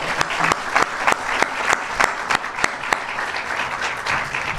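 An audience applauds at a building's grand opening ceremony, a dense steady wash of clapping with several sharper, louder claps standing out throughout.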